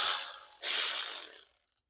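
A hand ratchet turns out a water pump mounting bolt on a 1985 Chevrolet C10 with a small-block 350, two quick close clicking runs, then it stops.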